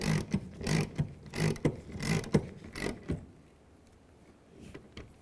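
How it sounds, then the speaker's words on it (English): A ratchet tightens the rear wiper arm nut on a 2002-2006 Chevrolet Trailblazer, clicking in several quick close bursts before falling quiet. "Put the nut on and tighten that down."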